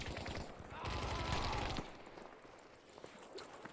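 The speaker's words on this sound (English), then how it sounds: "able to rain down gunfire from above" Rapid bursts of automatic gunfire in a video game rattle for about two seconds, then give way to scattered quieter clicks and distant shots.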